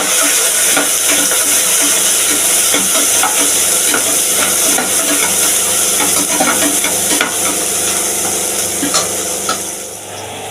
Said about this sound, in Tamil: இப்போ அதுக்கு ரெண்டு பச்சை மிளகா கொஞ்சம் வெங்காயம் இப்போ நல்லா வதக்கிட்டுலாம்